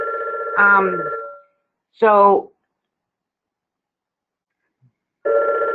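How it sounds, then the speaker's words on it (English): A telephone rings in two long electronic trills separated by a pause, loud and close, with a single brief spoken word between rings during an online advocacy presentation. "And I apologize for my phone ringing."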